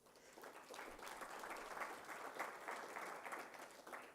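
Steady audience applause for panelists at a cyber week morning session, a continuous even patter of many hands heard at a moderate distance.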